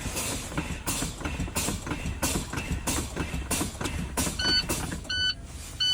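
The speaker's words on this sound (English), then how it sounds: "I'm gonna fan my brakes." Truck tractor air brakes fanned during a low-air alarm test: a series of sharp rhythmic air bursts and hisses about every half second, close and loud, ending with a high steady alarm beep sounding in repeated short tones.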